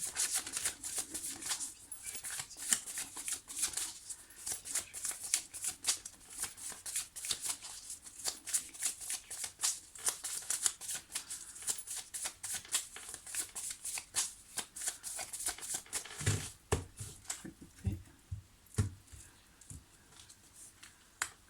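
Tarot cards are shuffled by hand in a long, continuous run of quick papery riffles and slides, close and fairly quiet, ending in a few slower flicks and taps.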